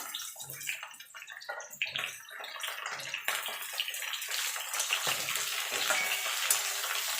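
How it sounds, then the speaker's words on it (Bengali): Eggplant and ridge gourd are added to a pan already frying potato and pumpkin, setting off a loud, spreading sizzle with stirring clatter that builds into a sustained hiss. "আলুটা আর কুমড়োটা মিনিট দুয়েক ভেজে নিয়েছি। এবার বেগুনটা আর ঝিঙেটা দিয়ে দেবো।"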